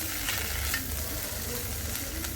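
Steady sizzling from a hot pan as ginger-garlic paste is sautéed, with soft scraping of a utensil stirring, close and continuous.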